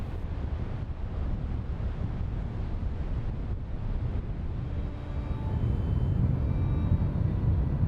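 Rough sea at the Wells Bar whipped up by a northeasterly gale, a continuous heavy roar of breaking waves mixed with buffeting wind noise, steady and loud throughout and swelling slightly toward the end.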